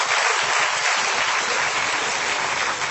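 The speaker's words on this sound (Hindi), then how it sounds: "एक बार ताली बजाइए जोरदार आप।" An audience at a live Hindi stage performance gives loud, sustained applause, a dense wash of clapping that runs unbroken throughout.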